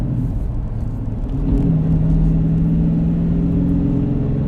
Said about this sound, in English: This is my first drive with the Challenger shaker.